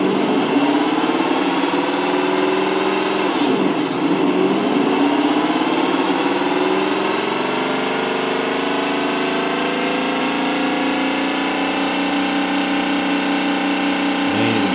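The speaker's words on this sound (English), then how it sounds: "I do like the diesel sound the best" ESS-One engine sound box for RC trucks playing a simulated diesel engine, a steady loud rumbling drone whose pitch climbs and drops with gear shifts, running continuously without speech.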